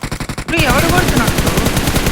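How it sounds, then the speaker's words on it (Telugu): Gunfire from a shotgun in a video game: after a brief rhythmic pulsing, a loud sustained burst of shots and blasts fills the rest of the moment, with a faint voice under it. "ఇంకోటి షార్ట్ గన్ సౌండ్ బ్రో"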